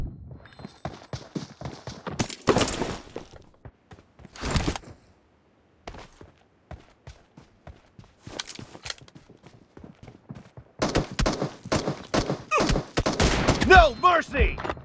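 Gunfire in the PUBG Mobile video game: loud bursts of rapid shots in several separate volleys, broken by quieter clattering steps and short pauses, with the shooting growing denser toward the end.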